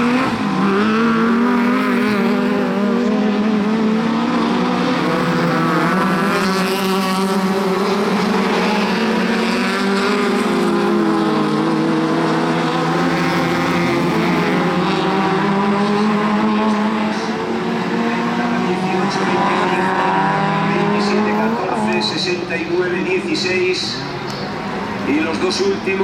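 Race cars battling for position during a qualifying round at a circuit, engines roaring continuously and loudly with revving pitch changes, under steady Spanish-language commentary.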